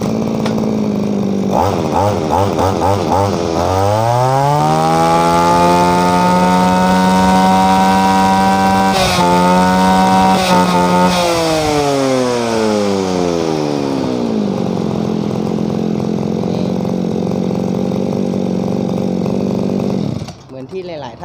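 A Minoru lightweight brush cutter engine rises from a sputtering idle to a loud, steady high-revving whine, holds it, then eases back down to idle. A brief word is spoken near the start.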